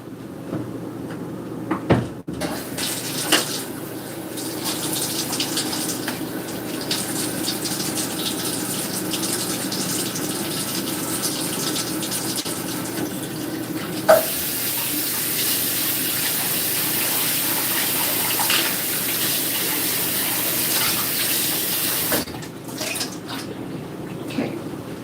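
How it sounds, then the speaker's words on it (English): A bowl washed under a running kitchen tap, a steady loud gush of water for most of the stretch, with a few knocks and clunks of the bowl and a brief pause before the flow stops near the end. "And I'll wash this bowl."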